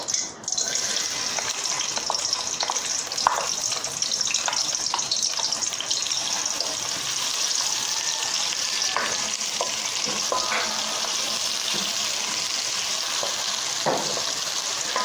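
Chopped onions frying in a pot of hot oil for Nigerian concoction rice, with a steady, loud sizzle throughout and light stirring clatter.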